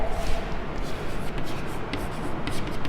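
Writing strokes scratch steadily and close by as the steps of a division-algorithm math solution are written out, a continuous rubbing rhythm of short strokes.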